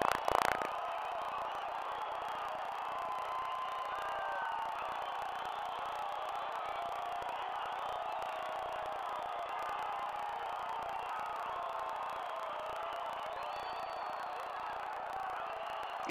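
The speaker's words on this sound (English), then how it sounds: "An incredible introduction to this Foss-heavy crowd at Cuscat Lawn." A large stadium crowd at a C.D. FAS football match in El Salvador roars and cheers in a steady, dense wash of noise that holds for the whole stretch, with a brief louder burst at the start.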